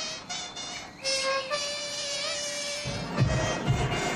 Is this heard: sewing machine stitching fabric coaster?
no